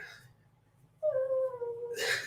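A dog at a door gives one drawn-out, high, wavering whine that starts suddenly and tails off, alone and fairly close.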